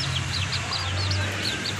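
Small chickens chirp in short, repeated high peeps, close by and fairly steady over a low continuous hum.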